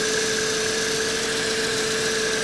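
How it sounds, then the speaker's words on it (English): A supercharged straight-four car engine idles roughly, a steady close mechanical drone with a faint whine running unbroken and alone for the whole stretch. "It is idling a little rough."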